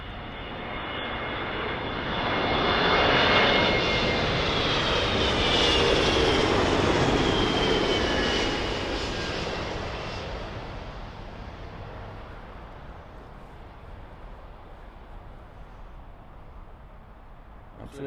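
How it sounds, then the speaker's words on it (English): United Boeing 777 from San Francisco landing on runway 27L at London Heathrow: a loud, close jet engine roar with a high whine that swells to a peak, then fades into a lingering rumble. "So that was the United triple from San Francisco."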